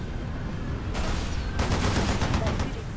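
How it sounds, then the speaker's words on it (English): An anti-air gun firing in Halo: Reach, heard as loud rapid bursts that start abruptly and return after a brief gap, rattling on over steady battle noise with some speech mixed in. "Let's turn the anti-air gun on."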